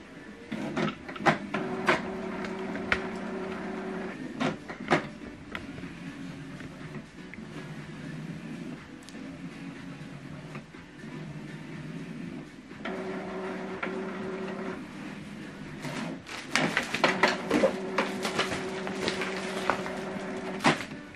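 An Epson XP-4200 inkjet printer initializing, with mechanical whirring motor runs, clicks and ticks of the print head moving in repeated bursts, close and fairly quiet.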